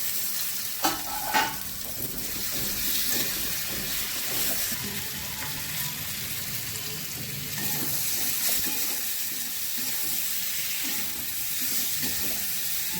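Tomato goes into a pan of frying fish-head and cabbage curry: a few utensil knocks early, then a loud, steady sizzle with stirring scrapes throughout, close up.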